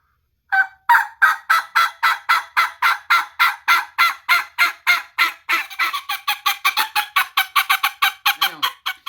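A turkey tube call, a rubber membrane pressed against the lip, makes loud, close popping turkey notes in a long, even string of about forty sharp pops that speed up toward the end.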